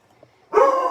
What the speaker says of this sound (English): that's my dog, Copper.